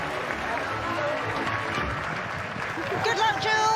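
A crowd at the Great Yorkshire Show applauds and cheers at the finish of a ring event, a dense wash of clapping under close talk, with a higher shout rising near the end.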